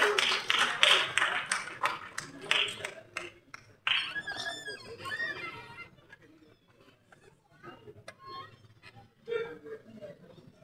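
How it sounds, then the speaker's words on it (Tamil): Applause breaks out at a Tamil movie audio launch, with bursts of clapping strongest at the start and fading into scattered claps, under a lively hall ambience. "ஜித்தன் ராஜ் அவர்களை அன்புடன் மேடைக்கு அழைக்கிறோம் ஒரு பெரிய கைத்தட்டலுடன்."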